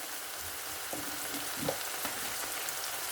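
Okra and onions fry in a pan, giving a soft, steady sizzle that stays low and even, with a few faint stirring knocks near the middle.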